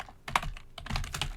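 Quick keystrokes clatter close up on a computer keyboard in an irregular rhythm of sharp clicks, with no voices.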